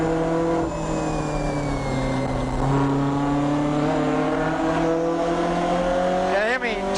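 A touring race car at the 1981 James Hardie Bathurst 1000 runs through the S-bends, its engine droning loud and steady, the pitch sagging and climbing as it works through the corners, with a brief rise near the end.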